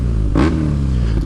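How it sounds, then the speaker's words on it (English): A BMW R nineT motorcycle engine, idling with the clutch pulled in, gets one quick throttle blip that rises and falls over its steady low rumbling idle, heard up close. "I'll pull in the clutch and I'll rev it and you'll see the whole bike jiggle"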